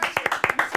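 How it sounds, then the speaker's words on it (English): A few hands clap in a brief, uneven burst of about seven sharp claps, close and fairly light. "it's time to give a round of applause for StreamBritish"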